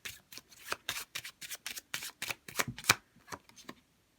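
A playing card deck shuffled by hand in a quiet room, a rapid series of crisp riffling bursts repeating in quick rhythm, close and clear with no talking.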